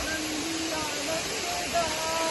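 Ranpat waterfall in Ratnagiri pours with a steady, full rushing roar that stays even throughout, with faint voices mixed into the spray noise.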